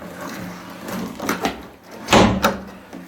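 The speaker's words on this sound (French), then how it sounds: "Non, c'est la porte d'en haut sûr." Somewhere upstairs in a house, a door gives off a few muffled knocks and thuds over a quiet, hissy room, with one sharper, louder bang near the end.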